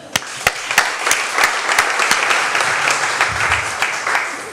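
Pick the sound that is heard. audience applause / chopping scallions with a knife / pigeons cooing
audience applause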